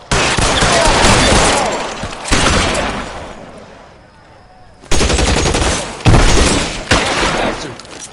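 Loud, dense gunfire in L.A. Noire, long sustained bursts with a short lull in the middle before the shooting resumes in heavy overlapping volleys.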